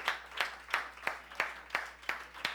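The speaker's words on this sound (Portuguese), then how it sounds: "Você pode aplaudir Jesus" Steady, rhythmic clapping from a church congregation, about eight evenly spaced claps in under three seconds, moderately faint and heard without talk.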